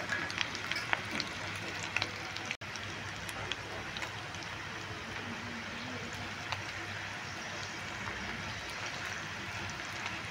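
Potato-filled tiffin rolls fry in hot oil, a steady close crackling sizzle that runs unbroken throughout with a brief dip partway, no voices heard.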